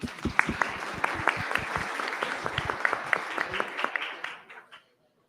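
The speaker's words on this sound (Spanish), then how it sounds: "Aplauso." An audience at an international forum on social justice and education applauds with dense, steady clapping that holds for about four seconds, then fades quickly into silence.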